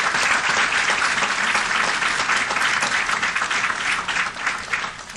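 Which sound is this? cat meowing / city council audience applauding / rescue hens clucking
city council audience applauding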